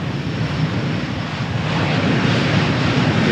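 A fixed-wing airliner on runway 13 at Malaga Airport on a stormy morning roars as it builds to takeoff, a loud broadband engine rush with wind noise that swells slightly toward the end.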